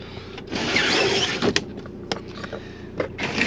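Electric window motors whir on the driver's door of an Auto Trail Expedition C73 motorhome, a steady close-up mechanical drone with a few sharp clicks and knocks partway through.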